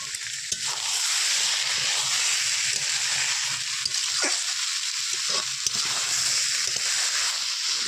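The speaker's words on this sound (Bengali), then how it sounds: "এবার আলুগুলো আমি সবজির মধ্যে ঢেলে দেবো।" Potatoes sizzling in a pan as they are sautéed with ash gourd and vegetables for a Bengali village-style crab curry, a continuous close hiss with occasional stirring clinks and scrapes.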